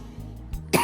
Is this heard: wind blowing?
no